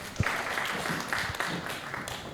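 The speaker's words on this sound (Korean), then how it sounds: "조경재 대표님 박수로 맞이하겠습니다." An audience at a public art forum claps in a soft, steady patter of applause, fairly faint and distant, lasting a couple of seconds.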